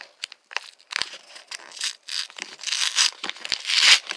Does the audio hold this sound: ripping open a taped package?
yes